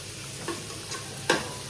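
Fish roe frying in a pan gives a soft, steady sizzle with a couple of faint utensil taps, low-level and close, with no voices.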